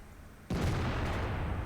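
A KV-2 tank cannon in World of Tanks fires a single heavy shell, a sudden loud boom that bursts in after a short near-silence and then rumbles on through the rest of the moment.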